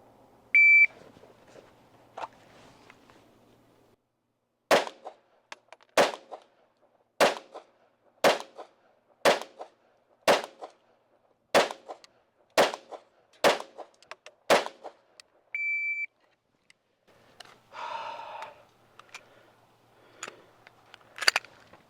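A 15-second drill from concealment: an electronic shot timer beeps once, then ten sharp pistol shots follow in a fairly steady rhythm, each a loud, crisp crack with brief echo, ending in quiet before another short beep.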